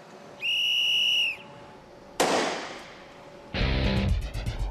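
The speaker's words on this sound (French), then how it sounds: "nous donnons un coup de sifflet et quand les autres sont prêts, ils sifflent 2 fois" A ship's whistle signal sounds near and loud as one steady tonal blast, followed by a burst of rushing noise and then a second rougher, harmonic-rich blast.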